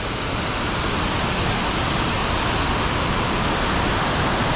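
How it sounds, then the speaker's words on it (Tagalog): Strong water near a dam on Mt. Binacayan, Wawa, sends up an unbroken, loud roar of rushing waves that holds steady throughout with no pauses or voices. "Lakas ng alon."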